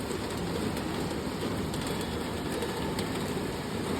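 Steady rain pours down in a continuous, even hiss with no pauses, fairly loud and close, and no voices.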